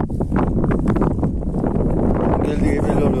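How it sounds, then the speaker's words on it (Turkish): Gusty wind buffets the microphone with a steady low rumble, while a voice talks over it throughout. "Biraz rüzgar olabilir."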